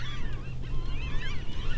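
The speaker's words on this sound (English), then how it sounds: "I came across some more geese" Several geese honk close by through falling rain and mist, overlapping calls repeating without pause above a steady low rumble of rain.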